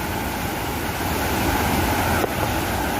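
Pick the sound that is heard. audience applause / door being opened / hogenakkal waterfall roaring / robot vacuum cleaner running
hogenakkal waterfall roaring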